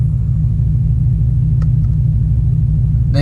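Engine of a 2017 Dodge Challenger Hellcat, a loud, steady low rumble filling the cabin as the gas is worked, with little change in pitch and a faint click near the end.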